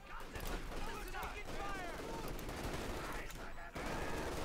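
Sustained MG-42 machine gun fire amid a busy Company of Heroes 2 battle, dense bursts layered with other gunfire and explosions, loud and continuous with a voice commentating over it.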